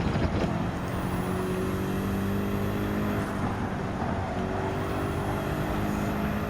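A race car engine runs at full throttle on the Nürburgring Nordschleife in Gran Turismo 7, a loud sustained drone with rising whining pitch sweeps as the car accelerates through the gears, close and steady.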